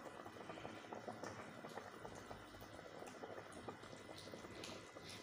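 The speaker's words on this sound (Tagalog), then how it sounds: "Ayan na siya, kumukulo na siya na." Beef broth boiling in a pot, a steady, soft bubbling and gurgling that continues quietly throughout with no voices.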